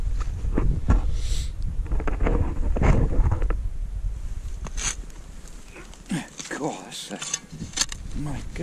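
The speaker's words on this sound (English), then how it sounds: "I hope it's not too much wind." Gusty wind buffets an outdoor microphone during metal detecting, with rumbling bursts and rustling, mechanical handling noises. A person speaks briefly near the end.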